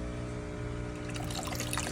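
After a fish tank valve is reopened, water trickles and flows faintly but steadily, with a low mechanical hum underneath and no talking.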